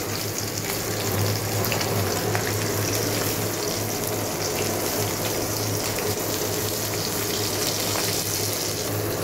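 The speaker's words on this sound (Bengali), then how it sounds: "এখানে ভাজছি।" Steady, dense sizzling of fish frying in hot oil, loud and continuous throughout with no voices.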